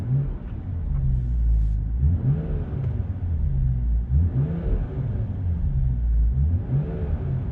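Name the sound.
BMW M240i engine revving, stock exhaust, Sport Plus mode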